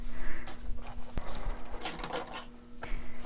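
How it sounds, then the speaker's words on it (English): Sewing machine tacking down elastic on a doll-sized crop top, short back-and-forth bursts of close mechanical whirring and clatter over a steady hum, with no speech. "Now I'm going to sew to tack down the elastic."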